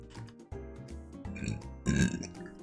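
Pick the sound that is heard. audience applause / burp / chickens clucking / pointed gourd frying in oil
burp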